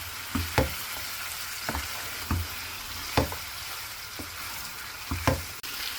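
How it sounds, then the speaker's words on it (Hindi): Chicken being pan-fried bhuna-style on a high flame, a soft sizzle broken by several sharp stirring clatters and scrapes at irregular intervals, close by, with no talking. "अब हम चिकन को भूनेंगे 2-3 मिनट के लिए, कलर चेंज होने तक। फ्लेम हाई रखना है।"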